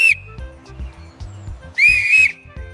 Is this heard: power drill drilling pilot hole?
no